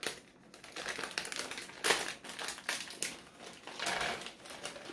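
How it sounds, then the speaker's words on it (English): Pecans tumble onto a paper plate, a close, quiet patter of small nuts clicking and rustling on the paper in uneven bursts for several seconds. "what I'm going to do before I start is I'm going to pour my nuts on a plate. I'm using a paper plate."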